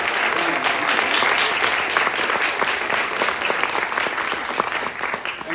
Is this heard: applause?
yes